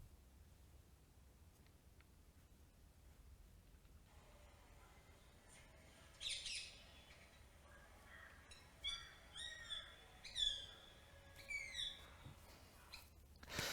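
A rose-ringed parakeet's call plays back faintly through a speaker, a run of sharp squawks and chirps in short bursts over quiet background hiss, with no voices.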